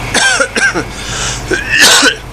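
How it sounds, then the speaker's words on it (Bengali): Several harsh, close coughs and throat-clearing sounds in quick bursts, loud and raspy, with a short pause between them. "ওস্তাদ আপনার কাশিটা তো এখনো ভালো হয়নি"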